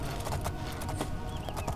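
Horse hooves clip-clop in the video game Oblivion, a quick series of close, rhythmic hoof beats with a faint whinny-like tone, over a low background rumble.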